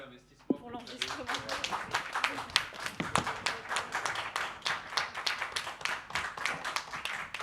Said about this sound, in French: je tenais à applaudir Marion et Rémi pour tout l'investissement